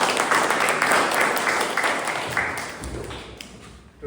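Audience applause at a Toastmasters club meeting as the timer is called up, a dense burst of clapping that gradually thins and fades over a few seconds.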